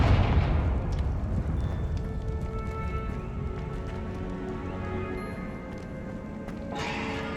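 A fire spell blast erupts in the video game Hogwarts Legacy: a deep booming explosion that hits hard at first, then rumbles and crackles away, with a brief rise of noise near the end.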